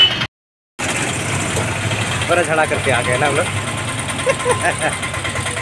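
A car engine idles with a steady low rumble beneath continuous conversation, inside a vehicle loaded with a month's groceries, where the engine is acting up.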